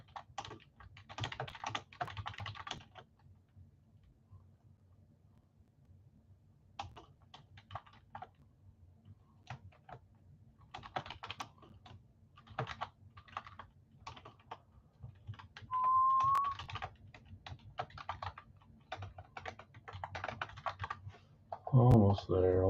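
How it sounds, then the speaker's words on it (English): Bursts of computer keyboard typing clatter on and off at close range, with quiet stretches between runs of keystrokes and a bit of background noise, while someone sets up a poll for a live sports card break stream. "A lot of annoying typing."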